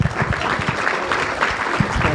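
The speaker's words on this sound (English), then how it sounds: "Let's give them a round of applause, please." An audience at a university event applauds a teacher. The clapping is steady and moderate, with people talking over it.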